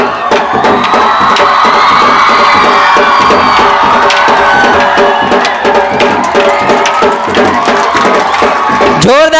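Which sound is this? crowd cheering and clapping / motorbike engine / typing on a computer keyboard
crowd cheering and clapping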